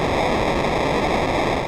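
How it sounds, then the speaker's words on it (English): Harsh, gritty electronic noise from a Eurorack random sample-and-hold signal hisses and crackles steadily at a loud level, a dense synthesized texture with no voices. "a random sample and hold style signal is used to create noise"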